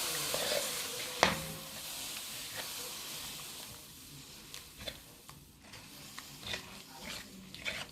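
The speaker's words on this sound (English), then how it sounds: "And you'll have to keep stirring it." Cheese sauce for cheesy cauliflower is stirred in a pan as milk is slowly added, a soft bubbling hiss with scraping spoon strokes and one sharp clink near the start, close and moderate in level without speech.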